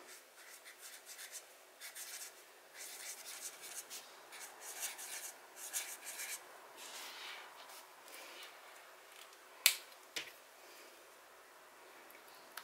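A pen scratches across a flexi planner page by hand in soft, close, rubbing strokes, stopping partway, followed by two brief sharper taps.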